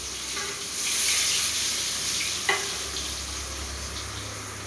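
Large eggplant slices, two at a time, fry in hot oil with a continuous close sizzle and a brief crackle partway through.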